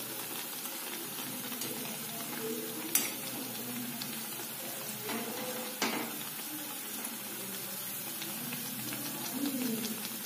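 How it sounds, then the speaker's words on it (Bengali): Chhena jalebi frying in hot oil at home gives a soft, continuous bubbling sizzle, with a few sharp clinks from a utensil striking the pan. "এই দেখুন এরকম ভাবে ভাজা হচ্ছে।"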